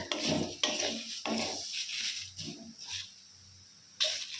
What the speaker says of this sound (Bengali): কাজুও দিয়ে দিলাম এর সাথে, ভাজা ভাজা হয়ে যাক।